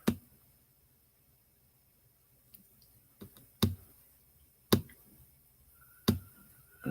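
Sharp computer mouse clicks, a single click followed by several more spaced irregularly, close and crisp in an otherwise quiet room.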